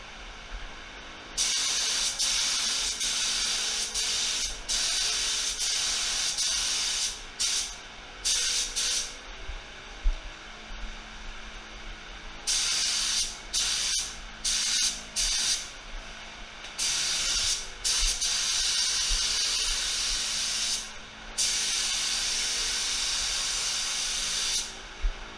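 Spray gun applying a first base coat to plastic car parts, a steady loud hiss in long bursts separated by short pauses, repeated throughout with no talking.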